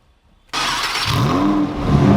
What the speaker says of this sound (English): We should now start the car.